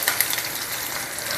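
Onions frying in hot oil for vatha kuzhambu, a loud continuous sizzle with a few sharp crackles near the start, heard alone.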